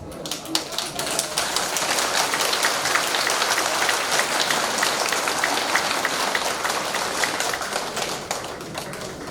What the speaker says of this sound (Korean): 여러분은 뜨거운 박수가 필요합니다